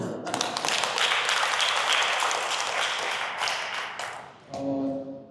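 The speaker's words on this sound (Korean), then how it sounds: "박수 한 번 더." An audience at a Buddhist professors' conference applauds in a full, dense round of clapping that swells and then tapers off, and a voice begins speaking as the applause fades at the end.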